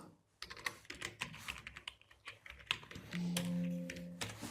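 Typing on a computer keyboard during a network lookup, irregular clusters of close, crisp key clicks with a steady tone entering near the end.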